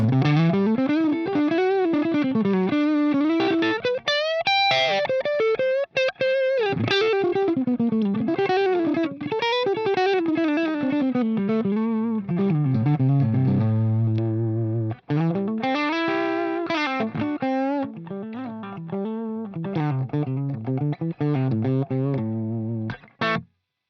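A distorted electric guitar through a Line 6 Helix amp modeler, neck pickup, plays a continuous melodic line with warm, rounded tone, sustained notes and slides, alone and fairly loud.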